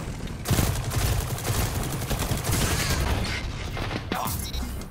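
A Cadenza-43 pulse rifle in Destiny 2 fires in rapid, continuous bursts, loud and close, with dense overlapping cracks and booms for nearly the whole stretch.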